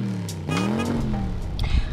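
A car engine hums close by while driving, its tone rising briefly as it accelerates, then holding a steady drone with a few light knocks near the end.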